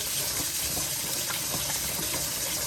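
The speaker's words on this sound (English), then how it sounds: "So we're gonna wash the rice until it's no longer cloudy." Rice being washed with water in the kitchen while preparing Jamaican stewed peas, a continuous loud rush and slosh of running water, close up with no voices.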